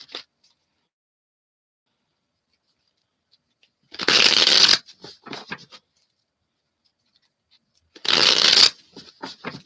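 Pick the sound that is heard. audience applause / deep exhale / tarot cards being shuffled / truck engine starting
tarot cards being shuffled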